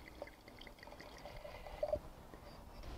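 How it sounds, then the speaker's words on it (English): A 2016 Sonoma County red wine is poured into a glass with a soft, faint trickle and gentle glugging, close but quiet against a low background hush, no voices. "Let me pour a little here."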